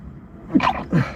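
A single sharp sneeze close by, a quick intake followed by an explosive burst, over a quiet room background.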